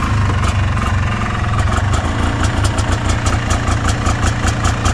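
A small engine, freshly started using a homemade choke, runs at a steady idle while warming up, its low rhythmic chugging loud, close and continuous throughout with no talking.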